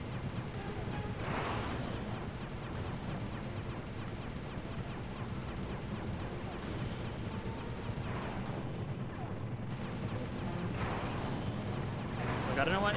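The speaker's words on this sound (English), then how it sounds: "I don't know why they shoot so many missiles" Missiles launched in rapid succession during a video game turret section, a dense, continuous barrage of booms and blasts with crackling bursts filling the whole stretch, fairly loud throughout.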